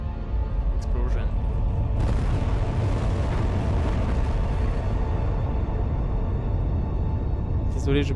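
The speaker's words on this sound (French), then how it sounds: "Explosion." A loud, broad roaring blast from an explosion in the video game Tomb Raider Anniversary swells up and rumbles steadily for a few seconds, then fades back into the game's background noise.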